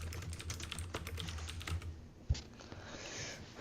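Rapid clicking keystrokes on a computer keyboard come in quick bursts, fairly close, then a single sharper key press and a quieter pause, with no talking.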